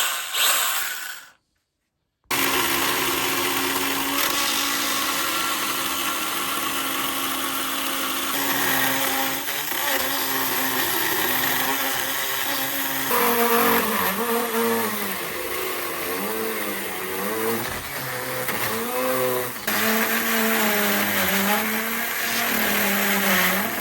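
A battery-powered chainsaw carving tool cuts into a log during an off-grid homestead log cabin build, its motor starting after a brief gap and then whining steadily and loudly, pitch wavering as the blade bites, with no talk.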